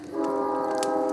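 A train horn blares in a sustained steady chord, loud and close, holding without a break through the short moment and sounding out on its own with no talk over it.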